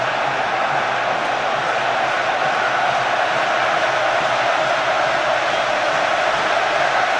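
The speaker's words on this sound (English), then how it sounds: "thunderous now, the noise from the crowd at Wembley" Thunderous roar of a packed Wembley crowd at an England versus Croatia football match, a dense, loud, unbroken wall of noise that holds steady throughout.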